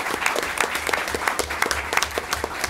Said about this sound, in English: A round of applause for our guest.